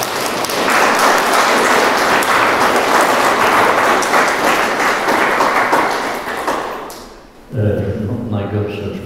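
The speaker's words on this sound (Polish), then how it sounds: "bardzo bym chciał, żebyśmy za to, że pan profesor z nami jest, nagrodzili już pana profesora oklaskami" Lecture-hall audience applauds the professor in a dense, sustained clatter of clapping that fades out after several seconds, followed by someone speaking.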